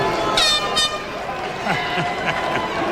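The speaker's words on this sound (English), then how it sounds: "Oh, the air horns are in here." Two quick blasts of an air horn ring out over a noisy crowd at an NFL draft, followed by talking and cheering in a large room.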